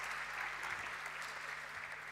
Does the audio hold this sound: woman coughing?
no